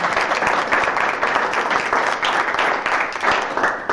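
A crowd gives a full, steady round of applause for a contestant at a small-town beard contest in Melrose, with continuous clapping throughout and no speech over it.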